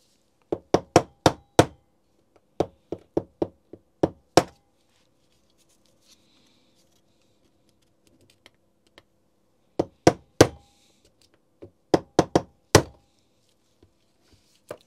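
Sharp metallic taps knocking a stuck part out of a Nocord NHD 800 rotary hammer drill, struck in quick bursts of three to five close blows separated by quiet pauses.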